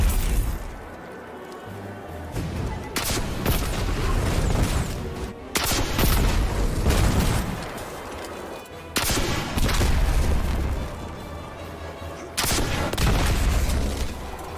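Sniper rifle fire from the video game Destiny, with loud booming shots in several separate bursts, each followed by a rolling echo tail.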